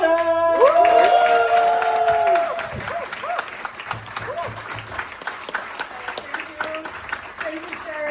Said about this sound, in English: Huge warm round of applause